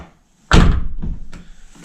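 A Nissan R35 GTR door shuts with one solid, close thunk, followed by a lighter rattling knock from loose parts inside the door.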